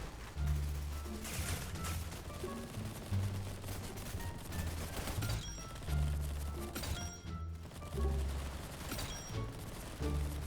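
Gunfire from a custom gun build in a shooter video game: rapid automatic bursts with heavy low thumps. Several loud volleys are broken by short pauses, with a few clinks and impacts mixed in.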